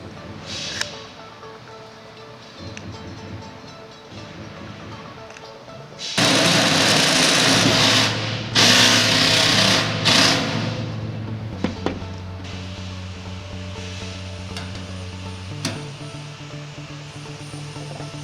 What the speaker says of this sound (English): I'll then get a 14mm drill bit, and again I'll use a sleeve.